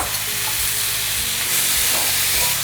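Tomatoes hit a hot pan for a tomato cream sauce with baked chicken, giving a loud, steady sizzle and frying hiss with light stirring scrapes, close up and without voices.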